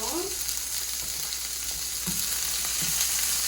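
Ingredients fry in hot oil in a pan, giving a steady close sizzle with a few soft stirring knocks and no talking.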